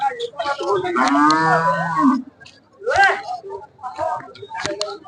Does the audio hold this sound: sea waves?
no